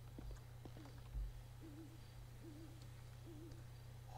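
Owl hooting in the GTA V game world, a wavering hoo call repeated four times at a steady pace over a low background hum, moderately distant and alone without talk.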